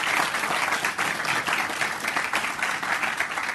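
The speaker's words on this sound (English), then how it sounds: "Please give them a big round of applause." Steady audience applause greeting a panel of speakers at a corporate event, a continuous even wash of many hands clapping at moderate volume throughout.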